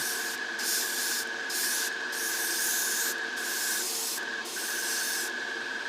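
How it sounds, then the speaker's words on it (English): Aerosol matte clear coat hisses in a series of short bursts, about six or seven, close up over a steady background hum, sprayed onto the underside of a Tamiya 1:35 scale T-55A tank model. "And I'm spraying all underneath."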